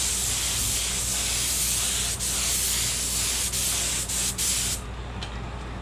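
Spray paint going onto a 1:1400 scale USS Enterprise E model kit in light coats, a steady loud hiss with brief sputters, close up and continuous until it tapers off near the end.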